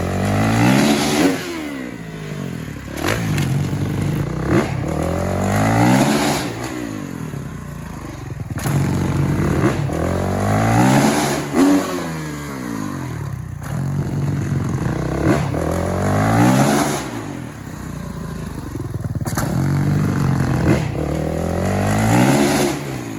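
Freestyle motocross motorcycle engine, tuned to be more responsive, revving hard in repeated throttle bursts roughly every three seconds, each rising and falling sharply, loud and close with no talking.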